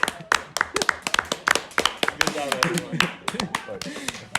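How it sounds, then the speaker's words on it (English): A small group of students in a classroom claps irregularly, with loud, close hand strikes of uneven rhythm while voices talk and laugh over the clapping. "Can we all clap for that?"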